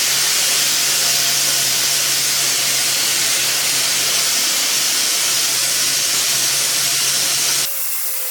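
A woodshop dust collector roars with steady broadband air suction and a low hum, loud and unbroken for several seconds before cutting off abruptly near the end.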